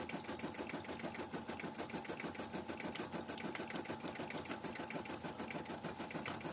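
An embroidery machine stitches out felt designs in a fast, even, repetitive needle rhythm that stays low and steady throughout, with no talking over it.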